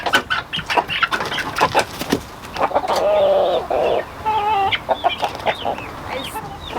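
Young roosters and chickens on a farm cluck and chatter in a close, busy flock, with choppy calls and a few drawn-out, warbling cries, and no talking.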